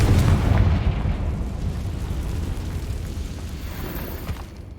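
A fiery Confringo spell explodes in the Hogwarts Legacy video game, a heavy booming blast that hits hard at the start and rumbles away over several seconds.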